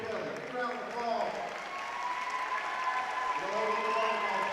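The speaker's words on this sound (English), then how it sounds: "Give a round of applause." A crowd in a school gym applauds during a boys basketball game, with steady clapping running through the whole moment while an announcer's voice carries over the top.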